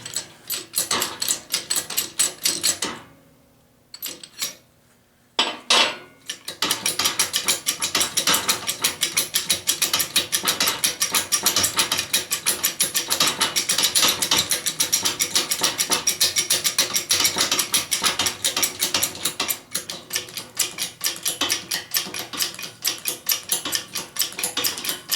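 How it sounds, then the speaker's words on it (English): Harbor Freight 12-ton air/hydraulic bottle jack being raised all the way to the top, giving a steady, close mechanical ratcheting and clicking run that carries on almost without pause after a brief quieter stretch near the start. "I'm going to go ahead and raise up my jack all the way to the top, see if this thing works or not"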